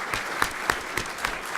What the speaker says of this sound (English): Can we give them a round of applause for the work they've done for us?